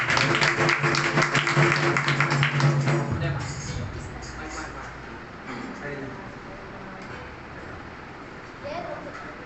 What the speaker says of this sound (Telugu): అందరూ చప్పట్లు కొట్టి దాన్ని ఆహ్వానపరుస్తున్నారు